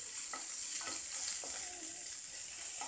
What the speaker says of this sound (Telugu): ఉల్లిపాయ కొంచెము లైట్ పింక్ కలర్ వచ్చేదాకా వేయించుకోవాలి.